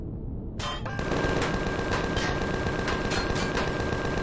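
Rapid automatic turret fire in the sci-fi survival game Empyrion: Galactic Survival, a loud, continuous rattling burst that starts abruptly and keeps up steadily over a thick rumbling bed.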